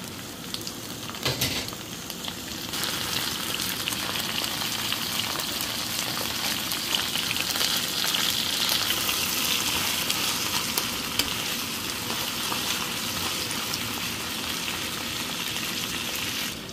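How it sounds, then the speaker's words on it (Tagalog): Crabs simmering in coconut milk with squash in a pan, a steady close sizzle and bubbling with a brief clatter near the start, continuous and alone without speech. "nagluluto ako ng ginatang crabs na may kalabasa"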